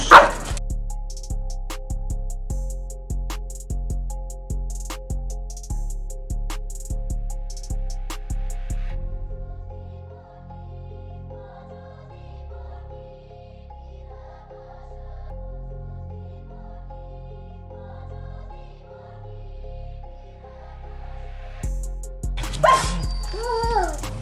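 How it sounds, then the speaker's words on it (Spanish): A female dog barks in a rapid run of short, loud yips and bow-wows at the start, then settles to quieter whimpers and muffled sounds before a final burst, indoors near a door. "vamos a meter a la perra dentro"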